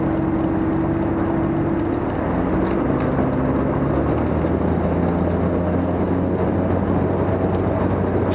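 Ikarus C42 light aircraft engine during a pre-flight run-up check, a loud steady propeller drone whose pitch shifts midway as revs change, continuous throughout with no talk.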